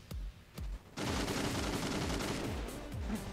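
Rapid bursts of automatic gunfire in the video game CrossfireX. A few separate shots come first, then a dense, sustained volley of loud, close cracks.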